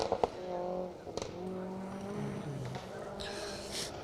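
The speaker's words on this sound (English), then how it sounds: "Making all the right noises in the little MG3" A little MG3 rally car's engine drones and shifts pitch as it drives a forest stage at Greystoke Stages. The note is continuous and moderately close, with brief sharper bursts.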